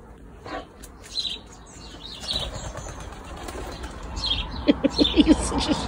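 A pigeon flaps its wings in a quick cluster of soft beating bursts that grows closer toward the end, with scattered bird chirps in the outdoor background.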